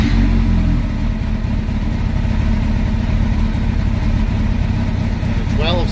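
Motorcycle engine held at a steady high rev around 4,000 RPM during a charging-system check, a loud continuous drone close by that stays even throughout.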